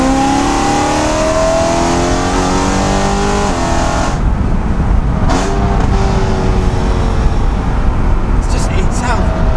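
Car engine revving hard while driving, a loud, angry rising and falling roar heard from inside, with people talking over it.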